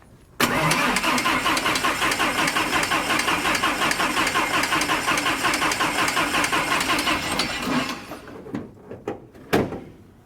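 A propeller aircraft engine is started: it catches abruptly and runs loud and steady with a pulsing beat for about seven seconds, then dies away into a few short knocks and one sharp bang.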